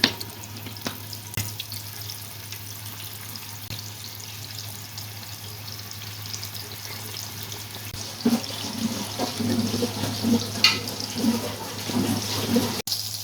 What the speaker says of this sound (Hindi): अब एक एक करके कबाब डालते जाएंगे और मीडियम टू लो फ्लेम पर हम इनको फ्राई करेंगे।